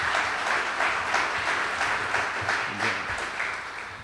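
A press conference audience at a golf tour championship media day breaks into applause, a steady wash of clapping, moderately distant and even throughout, with no talk on top.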